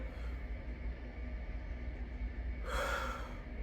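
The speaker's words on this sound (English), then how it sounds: "Get real deep. Breathe in." A deep breath in, drawn as part of a breathing exercise: a hissy inhalation near the end, close and fairly clear over a steady low background hum, with no talk.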